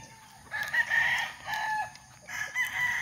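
A rooster crows loudly and nearby twice, the calls separated by a short pause, while chickens cluck faintly in the background on a farm raising chickens for harvest.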